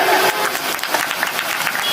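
Applause from an audience at a Hindu religious discourse with Puri Shankaracharya, a dense steady patter of clapping over two seconds with faint talk mixed in.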